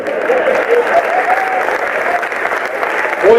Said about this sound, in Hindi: 7-8 लोगों ने ताली बजाई है,